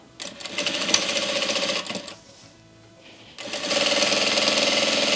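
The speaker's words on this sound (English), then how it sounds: "Go ahead and sew." A sewing machine stitches a satin bonnet in two steady, loud, whirring runs, separated by a short quiet pause.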